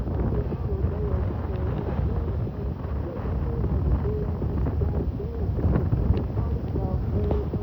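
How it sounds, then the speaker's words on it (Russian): Strong wind in Teriberka, in Russia's far north, buffets the microphone with a constant loud, roaring rumble, while people talk intermittently beneath it. "какой ветер"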